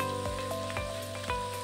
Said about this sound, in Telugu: బాగా మసాలా వేగుతుంది